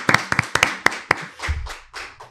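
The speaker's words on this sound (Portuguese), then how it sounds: "palmas!" A few people clapping to welcome a football coach and manager guest on a podcast, several quick sharp claps that soften and fade within about two seconds.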